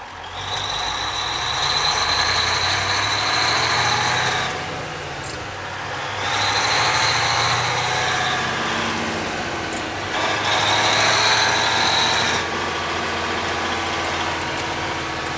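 A 1972 White Motors cabover truck with a Cummins 903 diesel idles nearby, its low steady rumble joined by repeated surging whines that rise and fall in three long swells.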